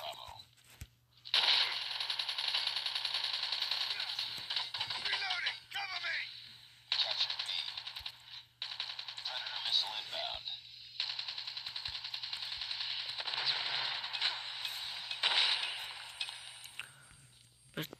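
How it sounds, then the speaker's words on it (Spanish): Video game gunfire rattles in long, dense automatic bursts broken by brief pauses, loud and continuous over a faint background hum. "Me están disparando, me están llegando por detrás."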